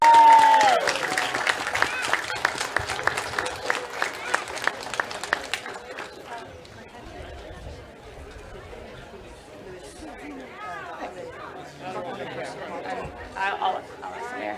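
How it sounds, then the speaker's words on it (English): An indoor audience at a recreation center grand opening claps in a dense, loud round of applause that fades out after about six seconds into murmuring crowd chatter, with voices talking nearby. "Let's give another round of applause."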